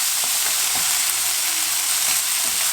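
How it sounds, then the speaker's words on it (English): Rice and toasted vermicelli sizzle in a pan, a dense, steady hiss of frying with faint stirring scrapes, close and alone. "Sizzling is a good sign."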